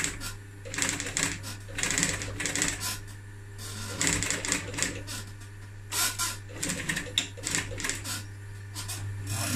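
Sewing machine topstitching pouf upholstery, running in bursts of rapid mechanical stitching with short pauses between runs, close up over a steady low hum.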